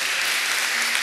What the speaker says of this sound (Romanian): vreau să-i și aplaudați